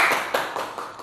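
A small classroom audience gives a short burst of scattered clapping, a few distinct claps fading quickly over about a second.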